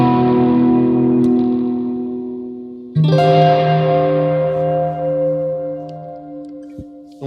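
Sustained electric guitar chords through Caroline Guitar Company Megabyte and Météore pedals ring out with long, shimmering delay and reverb trails that slowly fade, a second strummed chord blooming halfway through.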